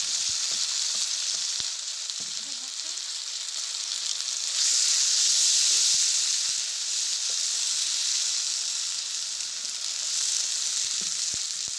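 Ginger and green chili paste frying in a pan, a loud, steady, hissing sizzle that swells midway, with faint occasional ticks and scrapes of stirring beneath it and no talking.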